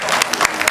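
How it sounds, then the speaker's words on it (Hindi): Loud crowd applause at a devotional Mata ki Chowki gathering in India, dense continuous clapping close up for a brief moment. "श्री बच्चे सिंह रावत जी का जोरदार ताली के साथ स्वागत।"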